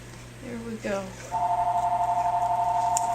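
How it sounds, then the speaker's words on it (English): A phone starts sounding in a kitchen during apple pie canning: after a few seconds of talk, a steady electronic ring begins and keeps warbling loud and close to the end. "doesn't the phone ring whenever you're busy?"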